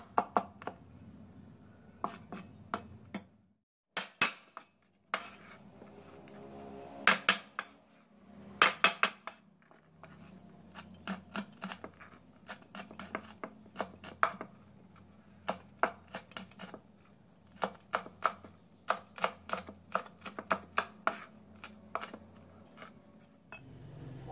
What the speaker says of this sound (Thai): เราก็จะเตรียมทุบพริกกับกระเทียมแล้วสับพอหยาบๆค่ะ